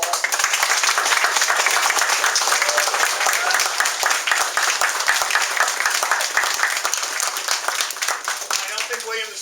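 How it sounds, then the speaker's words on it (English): Sustained, dense audience applause at a field event, thanking the marshals, loud and steady for the whole stretch, fading slightly near the end. "I want everyone to thank them with some applause."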